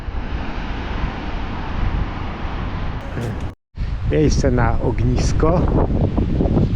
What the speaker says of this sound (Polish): fala jest, wiaterek trochę